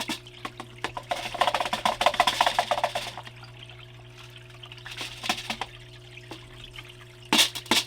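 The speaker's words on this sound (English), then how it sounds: "And it just rinses those rocks off real quick." Water sloshes and trickles over rocks as gold paydirt is rinsed, a soft, close splashing that swells for a couple of seconds, then settles into faint drips and a few sharper splashes near the end.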